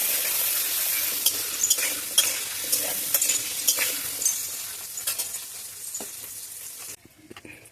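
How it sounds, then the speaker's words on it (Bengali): Potatoes frying with salt and turmeric in a pan, a steady sizzle with frequent scraping stirs throughout, close and fairly loud, dropping to quieter sizzle near the end. "অল্প লবণ দিয়ে আলুটা ভেজে নেই।"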